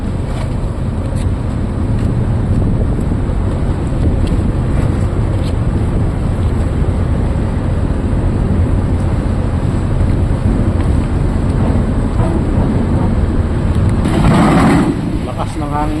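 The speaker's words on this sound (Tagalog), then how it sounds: "Lakas ng hangin ulan." Strong wind and rain at a ferry port roar steadily into the microphone throughout, with a rushing, watery wash and a brief louder gust near the end.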